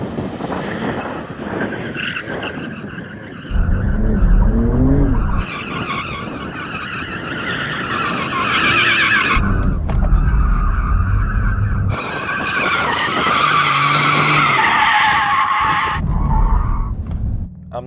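Porsche 911 tyres screech and skid loudly as the car is driven to warm them up, long squealing bursts mixed with engine roar, close and intense, with brief breaks between runs.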